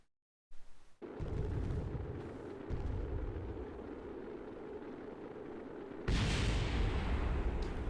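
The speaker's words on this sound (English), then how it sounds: "Explosion imminent." A rocket blows apart during a hard nighttime landing in Kerbal Space Program, a loud sustained explosive roar that rumbles on for several seconds, then surges into a bright second blast near the end, with no talking.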